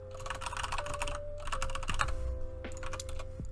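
Keys clatter on a computer keyboard while someone writes a Roblox script in Roblox Studio, with quick bursts of taps separated by short pauses and a faint steady hum underneath.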